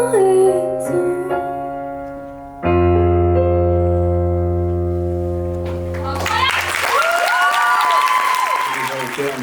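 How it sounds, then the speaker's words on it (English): A school concert audience at a French lycée applauds after a song, a broad wash of clapping swelling in over a held final chord while a voice speaks over the crowd. "On peut les applaudir."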